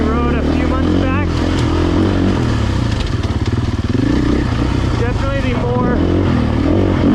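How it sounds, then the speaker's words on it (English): A GasGas EC450 four-stroke enduro motorcycle engine runs and revs, a rough, loud thumping drone with rising throttle blips, heard beneath someone talking close by. "the EC450. This is the Enduro 450 4-stroke"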